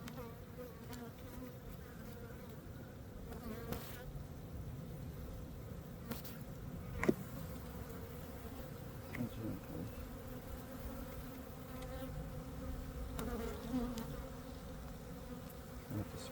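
Honey bees buzz around an opened hive at an apiary during a March inspection. The droning is continuous and fairly soft, with a few faint knocks and handling noises near the hive.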